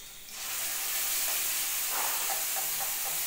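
Mint sizzles in hot ghee in a kadai with carrots and beans, a steady close hiss of frying that swells after a brief quieter start, with no talking.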